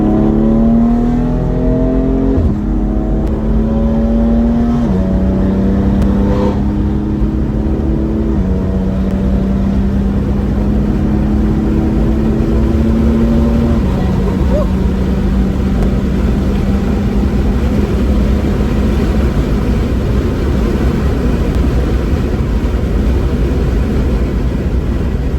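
A loud 600 bhp BMW M4 engine revs hard through several gear shifts, each pitch climb dropping back before rising again, then holds a steady roar.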